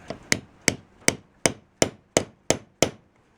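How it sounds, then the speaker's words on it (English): Nine evenly spaced hammer taps on a metal bass drum hoop, marking drill holes, sharp and close, in a steady rhythm about three per second. "just tap it so your drill bit knows where to go, and you can tap all your holes"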